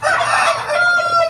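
Native rooster crowing nearby, a single loud drawn-out cock-a-doodle-doo call lasting just over a second, heard alone.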